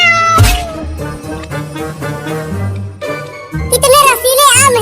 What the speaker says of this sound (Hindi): चिंटू, वो देखो एक छोटी सी बिल्ली हमारे पीछे पीछे आ रही है।